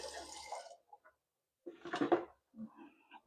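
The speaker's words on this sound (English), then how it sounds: "First, put the cold water in." Cold water from a tap runs into a sink readied with dish soap, coming in a few short, uneven splashing bursts separated by near silence.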